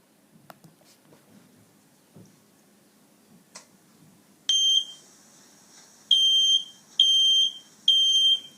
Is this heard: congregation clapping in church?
no